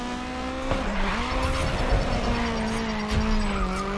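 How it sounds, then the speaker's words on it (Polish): A race car in GRID Legends drifting, its engine note dropping and steadying as it shifts down into third gear, with a sustained tire squeal and a loud, close, continuous drone. "Cyk, redukcja do trójki."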